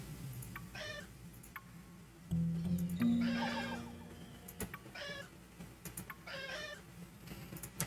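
Cats meowing in a puzzle video game: several short, repeated meows come at intervals with a steady electronic game tone under them, all fairly faint.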